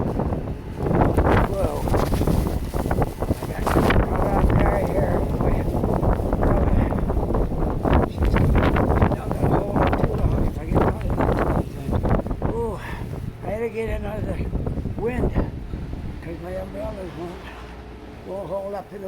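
Strong gusting wind from a nor'easter snowstorm in Halifax roars and buffets the microphone in a continuous broadband rush, easing slightly toward the end, while a person talks over it in the later part.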